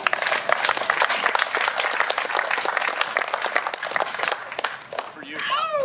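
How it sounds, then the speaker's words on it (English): An audience at a Shasta College weld academy closing ceremony bursts into sustained applause, dense clapping and some cheering indoors, tapering off near the end as a voice and a squeaky sound come in. "Give yourselves a round of applause."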